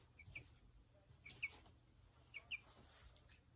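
A backyard chicken gives a few short, faint clucks spaced apart against a quiet, low rumbling background, with no talking.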